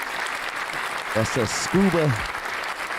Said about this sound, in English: Let me get a round of applause for our guest.